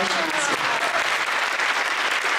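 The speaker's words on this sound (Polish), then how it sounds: "Niech trwają oklaski." An audience applauding a choir receiving an award at a carol and pastoral song contest, a dense burst of clapping that stays loud and even from start to finish.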